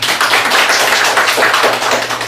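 Mothers in an audience at a parents' seminar clap together, a dense, steady patter of many hands held close and loud for a couple of seconds, with no voices over it.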